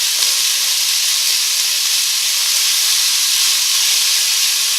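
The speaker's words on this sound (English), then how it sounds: "add 320 grams of onions" Onions, 320 grams of them, sizzle loudly in a pan for spaghetti and meatball sauce, a steady, dense frying hiss filling the whole stretch with no talk and no pauses.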